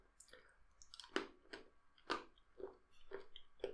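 Crunchy chewing of M&S dark chocolate with liquorice and blackcurrant, close to the mic, in a steady run of sharp crunches and bites with no talk.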